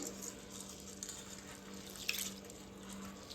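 Water sloshing and swishing as husked wheat grains are rinsed by hand, a soft, steady wet churning with light splashes, fairly quiet and close.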